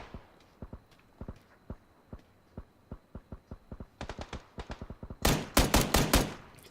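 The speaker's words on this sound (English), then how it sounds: "Actually, Booker started shooting at someone in there." PUBG gunfire: a long run of sharp, evenly spaced shots that grow louder and denser toward the end, ending in several loud close bursts with no talk.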